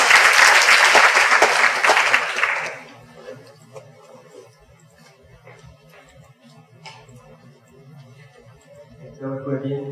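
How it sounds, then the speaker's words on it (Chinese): Audience applause welcoming a speaker at a youth working holiday information session in Taichung: loud, dense clapping for about three seconds, then it fades into a quiet hall with faint ticking and soft background sounds. "请大家热烈掌声欢迎"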